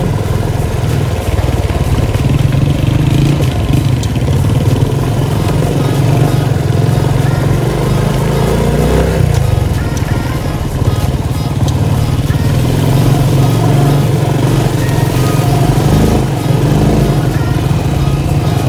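A Honda XRM 125 fi motorcycle runs loud and close while riding in low gear, a continuous droning engine note that rises and falls in pitch over wind rush, with no talking.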